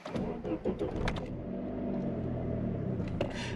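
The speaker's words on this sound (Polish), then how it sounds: "Zatem kluczyk, stacyjka i odpalamy." A Saab 9-3 is started with the key: a short cranking burst catches into an idling engine that settles to a steady low rumble, heard close from inside the car.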